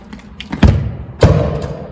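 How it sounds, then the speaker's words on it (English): A soccer ball strikes objects indoors during home practice, giving two loud, close thuds about half a second apart, followed by a short rattle and room echo, with no talking. "The soccer ball just hit it."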